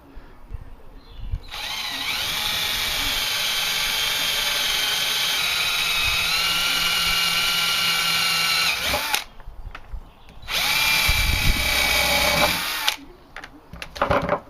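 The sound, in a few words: drilling out pot rivets with drill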